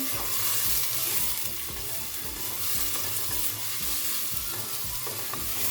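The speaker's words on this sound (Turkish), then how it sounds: "Soğanlarım güzelce sotelensin." Chopped onions sauté in a pan with a steady, close sizzle and frying crackle, broken by repeated scraping and stirring strokes against the pan.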